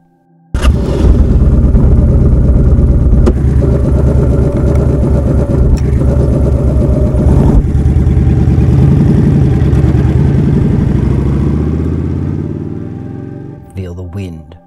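Motorcycle engine on a ride through rural Australian countryside, a loud continuous rumbling drone with shifting pitch that holds steady for about twelve seconds, then fades and sputters near the end.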